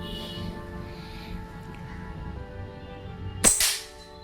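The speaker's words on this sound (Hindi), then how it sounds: "एक और कंफर्मेशन शॉट करेंगे" A single sharp airgun crack rings out during a Diana Outlaw versus Trajectron accuracy test, close and loud after a few seconds of low room hum.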